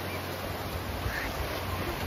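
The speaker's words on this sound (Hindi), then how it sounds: "लहरें काफी ऊपर ऊपर उठ रही हैं" Ocean surf at Radha Nagar Beach on Havelock Island, a steady broadband wash of waves rolling in, moderately loud and continuous with no voices.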